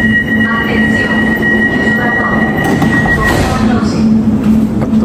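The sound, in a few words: driverless automatic metro train running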